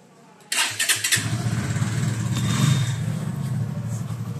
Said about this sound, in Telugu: ఒకసారి బైక్ స్టార్ట్ చేద్దాం.